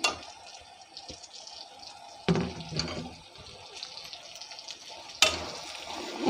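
Tomatoes drop into a hot cooking pan where dried red chillies are frying for a banana-flower and meat dish, setting off a sudden louder sizzle and spatter that swells again near the end, with no voices.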